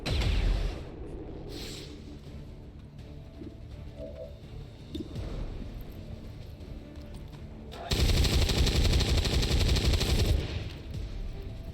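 Video game gunfire in XCOM 2, bursts of automatic shots with a loud, dense volley standing out near the end over a steady game backdrop, with a voice briefly talking.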